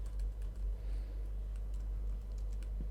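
Quiet keystrokes on a computer keyboard while text is typed, a steady run of light, irregular clicks over a low hum with no talking.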